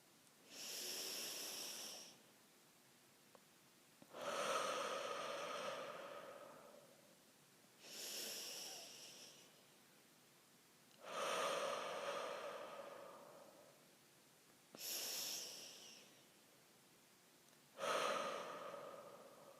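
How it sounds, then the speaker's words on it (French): Slow guided breathing, a three-second inhale followed by a three-second exhale, repeated as six soft airy breaths with a steady rhythm and brief pauses between them, close and alone with no talk. "Vous allez donc inspirer pendant 3 secondes et expirer pendant 3 secondes."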